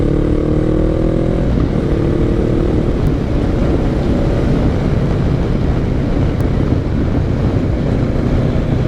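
Motorcycle cruising steadily along a road over fresh, smooth new pavement, engine drone loud and continuous under heavy wind buffeting with no break in sound.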